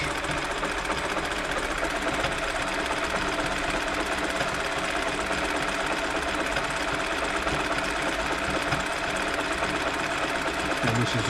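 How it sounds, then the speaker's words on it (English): Elna Club Computer 500 sewing machine running a stretch stitch, a continuous fast mechanical whirring and ticking as the needle works back and forth, loud and steady throughout with no voices. "And this is the stretch stitches it's doing, so it's going back and forwards."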